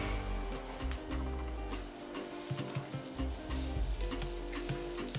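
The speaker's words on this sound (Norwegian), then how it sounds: "Da begynner vi stekeprosessen. Panne med olje og løken oppi." Onion sizzles steadily in hot oil in a pan, a dense crackling fry with some stirring and clinks, close up and without talk.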